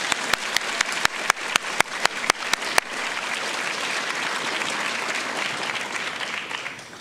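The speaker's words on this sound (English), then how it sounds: "I think you should give yourself a round of applause." An audience at an awards ceremony breaks into a round of applause: a few sharp, distinct claps at first, quickly building into dense, sustained clapping from a crowd that fades slightly at the end.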